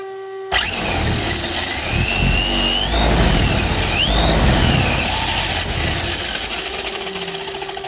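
A Traxxas Slash RC car motor on a stand abruptly whines up to a loud, steady rev with rising and falling pitch sweeps, then gradually eases off near the end, close by with no speech.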